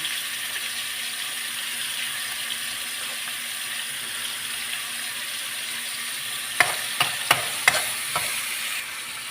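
Meat and liver sautéing in a pan for homemade lomi, giving a steady soft sizzle throughout with a few sharp clicks of stirring near the end.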